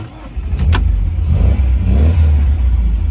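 A 1963 MG B Roadster engine starting and revving, a loud close rumble that builds after a brief mechanical rattle and holds a steady, throaty idle-to-rev drone to the end, with no talk.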